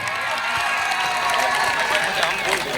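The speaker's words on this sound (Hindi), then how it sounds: "इसके लिए एक जोरदार ताली आप सबको जरूर बजाना चाहिए" Audience at a large live stage show in Sasaram breaks into sustained, dense applause and cheering, a continuous wash of clapping heard close and loud with no pauses.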